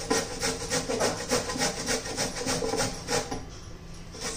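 Bottle gourd (dudhi bhopla), skin left on, rubbed against a grater into long strands: a steady run of close, rhythmic rasping strokes that soften toward the end.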